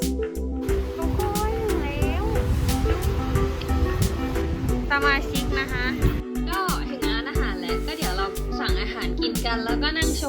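Sea waves wash steadily onto a resort beach in Chanthaburi, Thailand, a continuous broadband surf layered under music and people talking throughout.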